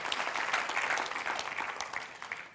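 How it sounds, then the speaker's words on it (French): A church congregation claps together in a steady burst of applause that fades slightly toward the end, with no voices over it. "donnez une bonne main d'applaudissement au Seigneur"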